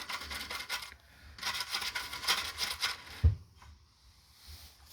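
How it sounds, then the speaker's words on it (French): Hand scrubbing of a part being cleaned, an irregular rasping rub in bursts with short pauses, fairly close, and a single dull knock partway through. "Faut bien frotter là"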